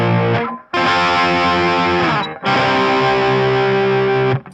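Distorted electric guitar hammering doubled power chords, two long ringing chord blasts separated by brief gaps, loud and close with a thick saturated tone and no voices.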